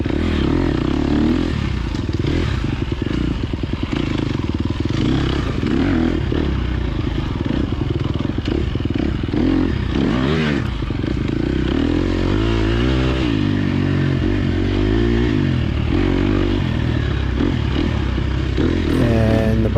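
A completely stock motorcycle on its first race lap at Vega, engine roaring steadily close by with constant revving and gear changes, plus occasional scraping clatter, no talk throughout.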